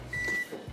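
A microwave oven runs with a steady electrical hum and a high whine while heating soaked gelatin in a home kitchen, along with a soft thump and faint handling sounds nearby.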